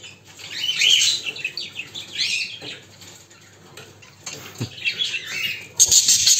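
Baby birds in a nest chirp in thin, high, rapid bursts with some rustling, close by, in a couple of clusters with quieter gaps between.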